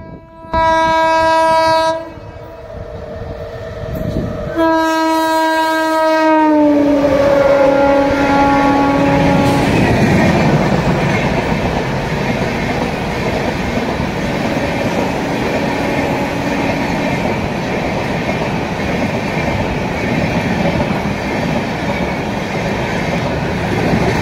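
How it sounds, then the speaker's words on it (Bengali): Indian Railways Tejas Rajdhani Express passes through Bankura, opening with two loud, long horn blasts that bend in pitch. A sustained roar of rolling wagons and wheel noise follows and stays close and loud to the end. "ভায়া বাঁকুড়া তেজাস রাজধানী এক্সপ্রেস, যার সময় ছিল বাঁকুড়া আসার 9:10, কিন্তু ট্রেনটি প্রায় 1 ঘন্টা দেরিতে"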